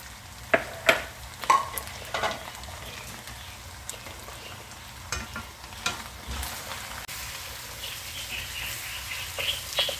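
Capsicum stir-fried in a hot pan, with a steady sizzle and scattered clinks and scrapes of stirring, close by and with no talking.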